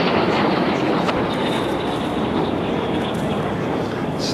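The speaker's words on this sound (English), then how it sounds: "Sounds like an aeroplane's just flown straight through the effects microphone" Aeroplane roaring overhead at a Cape Town cricket Test ground, a loud, steady broadband rumble that holds without a break for several seconds and swamps the microphone.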